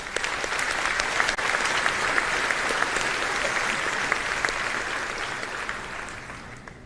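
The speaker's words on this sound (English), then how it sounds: "why don't we give a quick round of applause for all those people in the audience who have had a positive impact on you" Audience applause at a John Jay graduation ceremony in 2024, a dense, steady clapping from a large crowd that holds at full strength throughout and eases slightly toward the end.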